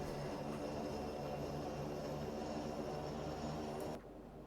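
The left engine of an Antonov An-24 airliner runs up with a steady droning whine and tonal hum, fairly faint, then drops abruptly to a lower, quieter hum near the end, with no talk.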